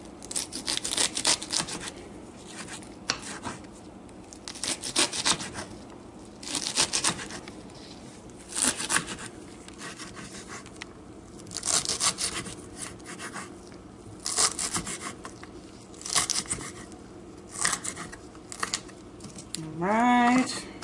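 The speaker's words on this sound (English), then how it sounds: "I seed them, cut them in slices, and then I'm going to just cut in chunks" A knife cuts seeded bell pepper slices into chunks on a board in a home kitchen, a series of irregular scraping, rasping strokes in bursts, with a brief voice rising at the end.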